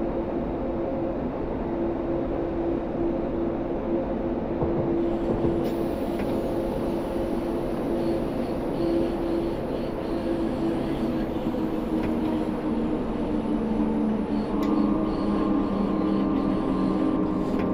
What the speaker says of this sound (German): Wir hören auch schön die S-Bahn Berlin einfahren